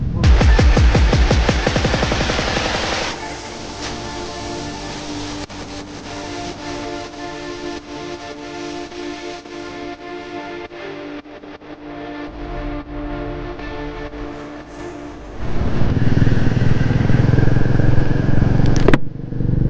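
Royal Enfield Goan Classic 350 motorcycles set off together on a group ride, their engines giving a loud steady rumble with rising revs at the start, a long cruising drone and another surge of revving near the end.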